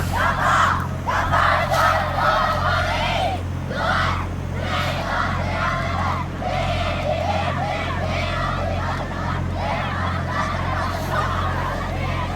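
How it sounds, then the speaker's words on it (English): School crowd chanting a rhythmic cheer at a Friday night sports game, many voices shouting together in repeated bursts over steady background noise. "Looks like Neshoba's got this cheer going on, and looks like Faye is about to do a cheer as well."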